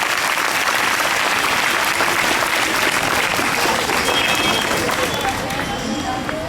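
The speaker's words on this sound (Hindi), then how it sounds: "एक बार सभी के लिए बहुत ज़ोर से तालियां बजाइए" Sustained, loud audience applause for a children's performance at a Mother Tongue Day celebration, dense clapping that fills the whole stretch with a faint crowd murmur underneath.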